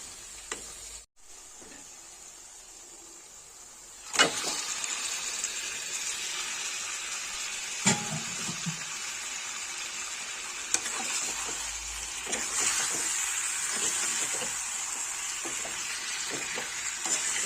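Chicken pieces fry in a pan of gravy base. A steady, fairly faint sizzle runs throughout, with occasional clacks and scrapes as the mix is stirred, and no voices.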